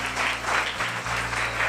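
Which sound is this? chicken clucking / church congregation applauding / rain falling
church congregation applauding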